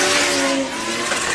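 Race car engine in a British Drift Championship battle at Teesside, loud and continuous as it comes back on power after a mistake, with a steady high drone and tire noise throughout.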